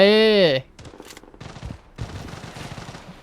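Rapid bursts of gunfire crackle in the Blood Strike shooter game after a short tonal chime. The shots are moderately loud, fast and uneven, with a voice talking faintly underneath.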